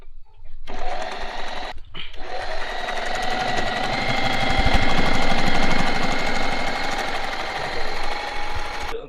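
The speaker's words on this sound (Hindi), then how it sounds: "पेडल को प्रेस करना है और स्टिचिंग आने लगेगी" An Usha Janome Marvela sewing machine stitches under pedal control, a loud, fast, rhythmic chattering hum that starts, pauses briefly, then runs steadily and swells slightly in the middle.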